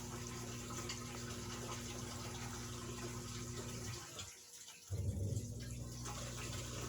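A pedestal washing machine runs its final drain: a steady rushing water hum with a tonal pump whine that cuts out for nearly a second, then returns slightly louder and keeps going, fairly quiet and close.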